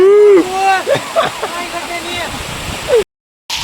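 Rushing water pours on Girnar mountain during rain, a steady splashing roar under loud talk and shouting for about three seconds, then a brief silence before the water returns.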